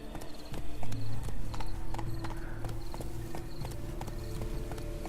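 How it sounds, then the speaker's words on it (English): Horse hooves trotting in The Witcher 3 video game: a steady, rhythmic clip-clop of close hoofbeats over a continuous low game ambience, loud and even throughout. "Be better off on horseback."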